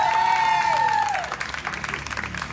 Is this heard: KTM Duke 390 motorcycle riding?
no